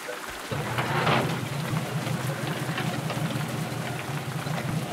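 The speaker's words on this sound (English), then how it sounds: "I love rain. I love the sound of rain." Steady rain falling in the video game Figment, a dense continuous patter that stays fairly loud and even throughout, with a low rumbling layer underneath and no talking.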